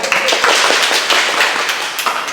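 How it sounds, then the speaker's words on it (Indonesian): A large crowd of about ten thousand people claps hands at a morning Islamic gathering, a dense, loud, continuous patter of many hands sustained throughout with no voices over it. "Tolong tepuk tangannya"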